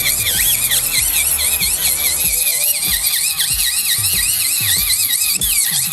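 An e-file turbo bit drilling product off a nail enhancement gives a continuous close high-pitched whine that wobbles up and down as the bit works, with light rhythmic lower thumps underneath.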